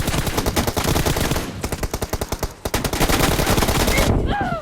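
Rapid automatic gunfire in PUBG Mobile during a team deathmatch, loud dense bursts of shots with short gaps, close and continuous, with brief rising chirp-like effects near the end.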